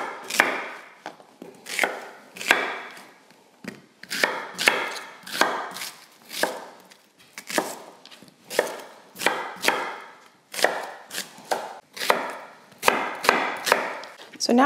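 A knife chops onions on a cutting board in rapid, rhythmic bursts of sharp, close strikes, pausing briefly between rounds, with no talking.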